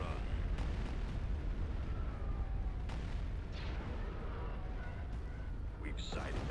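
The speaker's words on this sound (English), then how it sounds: "Commencing bombing run." Repeated explosions from a bombing run in the Star Wars: Empire at War mod Phoenix Rising, forming a dense, continuous rumble with several sharper bursts layered over it and game voices speaking throughout.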